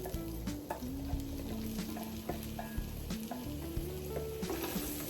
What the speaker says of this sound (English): Little bit of oil in the pan, and next we're just going to add onions.